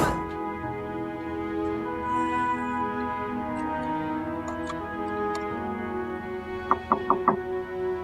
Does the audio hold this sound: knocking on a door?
yes